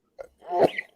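A single short sneeze, close and fairly loud, with a brief intake of breath before the burst, heard alone without talk.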